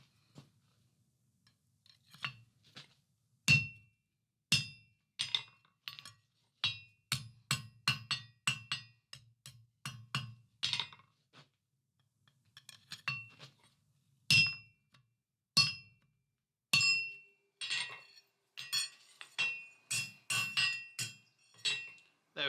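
A steel bar is hammered with a monkey tool to upset a square shoulder. Sharp ringing metallic blows come close and loud, some singly and some in quick bursts, with short pauses between groups.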